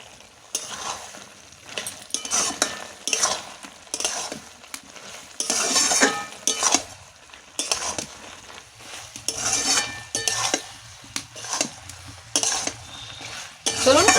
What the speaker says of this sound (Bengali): সব থেকে লাস্টে কর্নফ্লাওয়ার গোলা একটু জল আমি দিয়ে দিচ্ছি